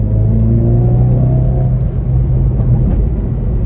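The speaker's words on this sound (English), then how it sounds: "it revs up, and then when you let go of the throttle, it burps and it backfires through the exhaust" A 2021 Hyundai Veloster N hot hatch revs loudly and close, its engine note rising in a steady climb before dropping back into a deep, continuous exhaust rumble.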